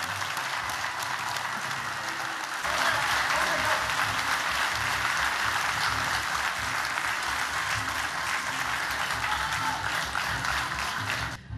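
A large studio audience at a farming reality-show finale gives sustained, loud applause for the farmers and a folk music band, swelling after a couple of seconds and holding steady throughout.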